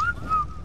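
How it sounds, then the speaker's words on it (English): A single short whistle in Ark Survival Evolved, a clear pitched tone that rises slightly then holds, used to call tamed dinosaurs; brief and alone. "Whistle all of them from right there."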